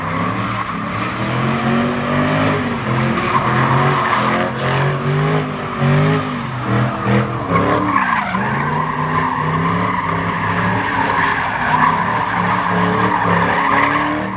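A Ford Mustang skids on a city street, tires squealing in long wavering howls over a rumbling engine, loud and close, the pitch sliding up and down as the car slides and revs.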